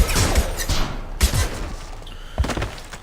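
Several heavy gunshots and thudding impacts from Mass Effect 2 combat, loud separate blasts spaced irregularly over a low rumbling background.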